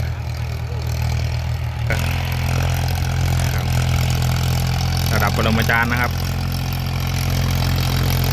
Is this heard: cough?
no